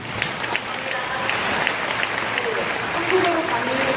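Audience applause filling a school admissions information session hall after a presentation, steady dense clapping throughout with a few faint voices mixed in.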